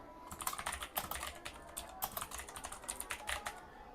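Rapid keystrokes on a computer keyboard as a line of text is typed, a steady run of close, crisp clicks with short pauses, heard alone without talk.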